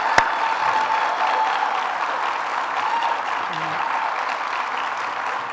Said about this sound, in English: So let's give Deborah Hughes another round of applause for all your work.